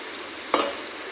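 Spices tempering in hot oil for a vegetarian potol and okra poppy-seed dish, one sudden burst of sizzle that quickly settles back into a faint steady hiss.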